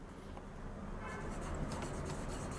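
Pen or marker scratching across a board while writing out a number sequence in an arithmetic progression lesson, a steady close rustle with short stroke bursts, no talk.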